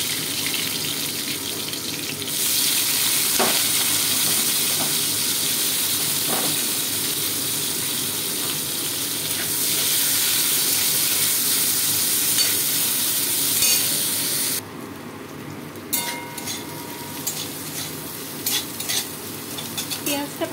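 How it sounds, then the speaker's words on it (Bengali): Onions frying in a pan with bay leaf in the oil, a steady close sizzle that swells and drops as they are stirred, with brief scrapes and clicks of the utensil throughout and no talk. "পেঁয়াজটা ভাজা হচ্ছে"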